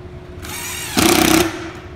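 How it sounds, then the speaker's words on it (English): A power drill drives a screw into clamped wooden leg boards: a steady motor whir rises into a louder, strained buzz for about half a second as the screw bites, then eases back to a lighter spin, close up with no talking. "I'll go ahead and put a screw in there"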